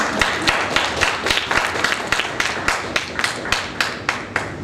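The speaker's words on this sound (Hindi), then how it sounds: "इन लोगों के लिए तालियां बनती हैं।" A crowd claps steadily and loudly, a dense patter of many hands with regular sharper accents, sustained without pause.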